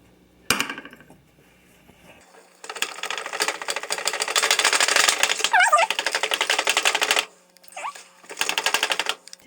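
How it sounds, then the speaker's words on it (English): An egg is whisked into a bread pudding mixture with a large whisk, giving a rapid rattling clatter against the bowl in bursts, loud and close, with brief pauses between. "Whisk that in."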